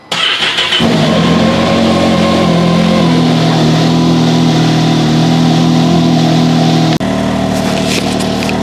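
A Can-Am X3 UTV engine runs and revs as the machine backs out of a garage, loud and close, starting after a brief quiet moment, holding a steady throaty drone with shifting pitch, then briefly cutting and resuming.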